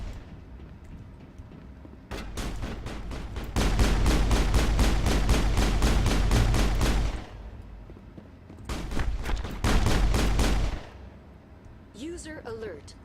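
Rapid bursts of automatic gunfire in the Mass Effect video game, a long dense volley followed by a shorter burst, loud and close over a low rumbling background, with a brief voice near the end.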